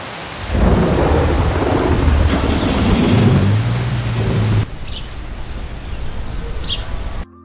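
A heavy rain downpour hisses steadily, and deep thunder rumbles beneath it. Later the rain thins to a softer patter, with a few faint chirps over it.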